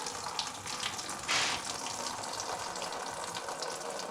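Steady rushing water pours and splashes continuously from an old Ford Model A Doodlebug that sat for 40 years, with a brief louder gush partway through.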